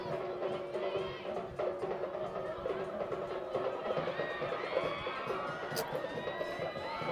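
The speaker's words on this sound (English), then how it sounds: "got the entire crowd going as they cheer, "Go Cebu."" A stadium crowd at a Dynamic Herb Cebu FC vs One Taguig FC football match chants and cheers in a rhythmic, sustained roar at a distance, with a commentator's voice running over it.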